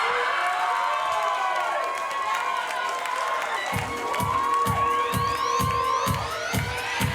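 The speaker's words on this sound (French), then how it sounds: "Applaudissements mesdames et messieurs pour Agnès, maître finaliste mauricienne pour l'Elite Model Look Mauritius 2018" A crowd at the Elite Model Look Mauritius 2018 final cheers and whoops loudly for the winner, and rhythmic clapping joins in partway through, sustained and full throughout.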